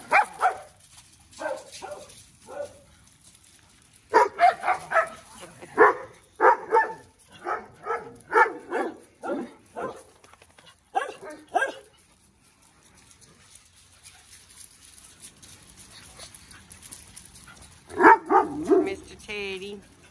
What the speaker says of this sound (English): Couple of pups.